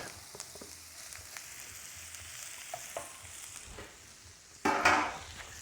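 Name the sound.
mixed vegetables added to onions frying in a pan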